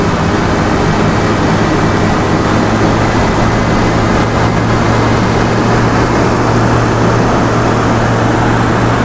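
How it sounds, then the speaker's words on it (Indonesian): A Toyota Kijang engine with contact-point distributor ignition held at high revs: a loud, unbroken, droning roar with a steady low hum, close up and with no voices. "karena ini sudah putaran tinggi"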